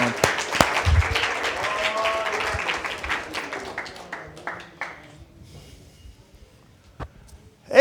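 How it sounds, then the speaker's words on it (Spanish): Church congregation applauding the Lord during a bilingual Sunday service, loud dense clapping with scattered voices that gradually thins and fades to near silence by the end. "vamos a darle un aplauso al Señor"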